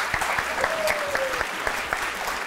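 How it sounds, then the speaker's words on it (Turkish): Brief burst of applause from an audience at a student competition final award ceremony, steady clapping with a few louder individual claps and faint murmuring underneath. "Bravo, kocaman bir alkış."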